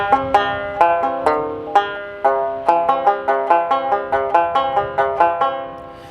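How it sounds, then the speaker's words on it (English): Banjo picks out a melody alone, a steady run of bright plucked notes with open bottom and middle strings ringing, close and clear throughout. "So it sounds something like this."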